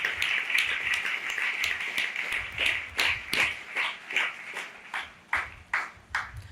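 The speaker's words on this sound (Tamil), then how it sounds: "நல்லா கைத்தட்டி." A church congregation clapping hands during a sermon, distinct rhythmic claps in a steady beat that grow sharper and more spaced toward the end.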